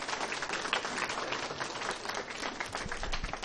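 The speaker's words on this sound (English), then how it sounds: "Give them a big round of applause." A crowd at a county spelling bee applauds the finalists after a long contest, a fairly faint but continuous wash of many hands clapping throughout.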